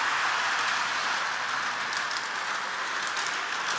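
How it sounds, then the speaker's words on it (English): A toy holiday train set runs with a steady, close whirring rattle of small wheels on track, continuous and fairly even throughout. "Drew, do you like your train?"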